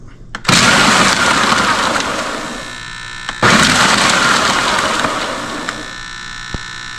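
A kitchen blender mixing ingredients for homemade hiking bars runs in two loud, continuous whirring bursts, the first about three seconds long and the second a little longer, separated by a brief stop.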